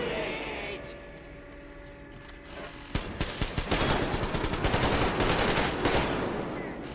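Automatic weapon fire in the post-apocalyptic shooter Metro Exodus, a steady, loud stream of rapid shots after a quieter stretch of ambient game sound, with a voice talking over it.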